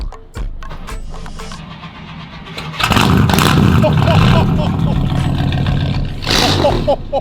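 A loud engine revs hard, its exhaust roaring in bursts, with voices talking and exclaiming over it.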